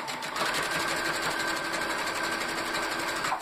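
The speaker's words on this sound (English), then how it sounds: "if you don't know how to do a zigzag stitch on your machine" A sewing machine runs steadily, zigzag-stitching fabric while making a shoulder bag, a continuous close whirring motor hum with rapid needle chatter throughout, with no talk over it.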